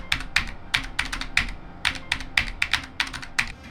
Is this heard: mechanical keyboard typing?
yes